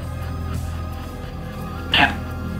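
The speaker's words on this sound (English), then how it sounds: "That's a dog." A dog in a house gives one short, sharp bark over a steady background hum, brief and moderately close.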